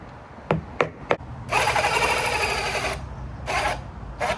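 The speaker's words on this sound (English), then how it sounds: "the drill just keeps overheating and it sucks and it's not working" A power drill works at a tight nut on a Carolina Skiff boat, a few short clicking bursts followed by a sustained whirring run and another brief burst, moderately close with no talk.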